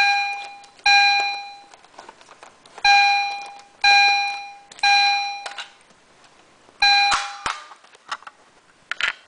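An EST Genesis chime/strobe fire alarm rings loud and close in repeated bursts of bright, ringing chime tones, about six pulses separated by short gaps, with faint clicks in between.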